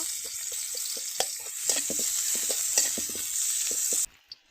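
Finely chopped onions sizzle in hot oil as samosa filling gets started, a close crackling hiss punctuated by quick repeated spatula scrapes, cutting off abruptly near the end.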